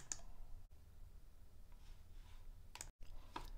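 Quiet computer mouse clicks sound close up, with one sharp click near the start and a quick pair of clicks near the end over a faint room hum.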